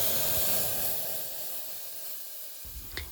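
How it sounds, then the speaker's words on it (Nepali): Millet flour dropped into hot oil in a pressure cooker on a gas flame gives a soft, steady hiss that slowly fades, ending with a couple of small clinks. "तेल तातिसकेपछि अघि रेडी गरेको पिठो राख्छु"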